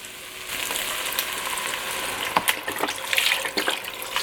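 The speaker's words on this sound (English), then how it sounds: "Now we're gonna add in our chicken broth." Chicken broth, a full quart, pours into a soup pot for escarole and bean soup, giving a steady liquid splashing and gurgling wash with a few sharper spatters and clinks, close and moderately loud, with no talking.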